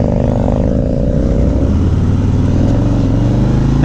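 A 2018 Harley-Davidson Road King Special motorcycle on a test ride, its engine a loud, steady close rumble that climbs in pitch as it accelerates under wind noise.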